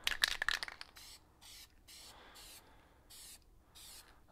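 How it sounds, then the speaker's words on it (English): A spray paint can hisses in a garage in a string of short, even bursts, each about half a second long, fairly faint after a brief louder opening spray. "It's gonna overspray onto the bed a little bit."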